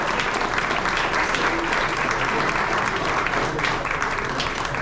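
Steady, loud applause from a banquet crowd for the coaches' families at a high school basketball banquet, dense sustained clapping filling the room without a break.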